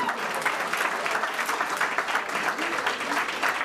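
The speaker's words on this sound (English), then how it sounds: "Let's give Carroll a round of applause for its birthday." Applause fills a hall at a youth convention at Carroll College, marking the college's 110th birthday: dense, steady clapping from a large audience, continuous and fairly loud for the whole stretch.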